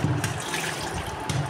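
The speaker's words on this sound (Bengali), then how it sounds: "মা এখানে মাছগুলিকে ভালো করে পরিষ্কার করে ধুয়ে নিচ্ছে।" Tap water runs steadily over bhetki fish being washed clean, a short close splashing stream with brief louder gushes at the start and end.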